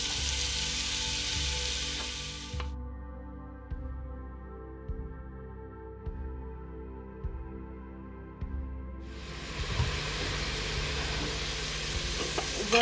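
Chopped onion frying in a little oil in a pan, giving a loud, hissing sizzle that drops away midway, leaving a low steady hum with a few soft clicks, before the crackling sizzle surges back strongly.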